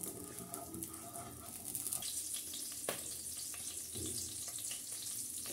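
Ghee frying in a pan for shahi zarda, a close, bright, continuous sizzle with crackling hiss and a few soft clinks, no voices.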